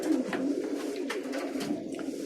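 A roller pigeon cock coos softly and continuously, a low throaty rolling murmur heard close and alone.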